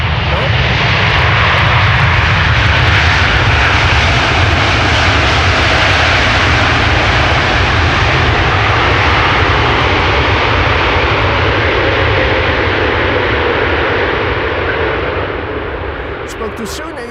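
A 16-year-old Boeing 777 freighter arriving on the Polderbaan runway at Amsterdam Schiphol, a loud, close, sustained roar of jet engines that holds steady and then slowly fades away at the end.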